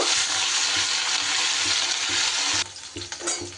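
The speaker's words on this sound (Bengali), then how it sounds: "মাছগুলো আমি ভেজে নেব।" Katla fish pieces fry in hot oil with a loud, continuous sizzle, followed near the end by a few clattering stirs and turns in the pan.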